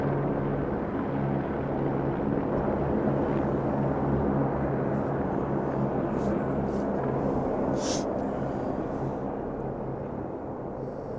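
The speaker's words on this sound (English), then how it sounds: "We were awoken in the middle of the night by a search helicopter, which was repeatedly scanning the canyon with its spotlight." A search helicopter flies low over a canyon at night, its steady rotor and engine rumble droning continuously and fairly loud, with no voices.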